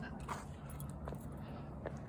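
A dog named Marley gives faint whimpers on a cold outdoor day trip, with brief soft whines over low background rumble.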